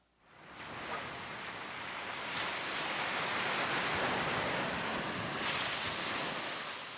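Broadband wash of ocean surf breaking on a beach, swelling in after a quiet start and holding steady with gentle rises, no voices.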